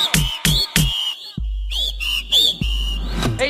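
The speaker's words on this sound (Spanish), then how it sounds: "¡El mundo chiflando!" Whistling from a crowd at an ice rink show: several sharp, loud shrill bursts in quick succession, then a pause and a longer wavering stretch of whistles with a low rumble underneath.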